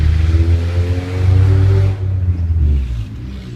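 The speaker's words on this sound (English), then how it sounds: "That's a car." A car passes a front yard on a morning, a loud low engine rumble that swells toward the middle and then fades, with no one talking over it.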